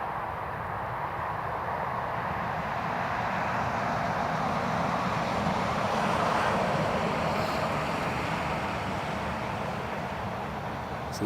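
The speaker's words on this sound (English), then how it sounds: "Emirates cleared to line up and wait, and they are fully ready for departure" An Emirates airliner takes off from Newcastle Airport with a steady, broad, distant roar of jet engines that holds at an even level and swells slightly midway.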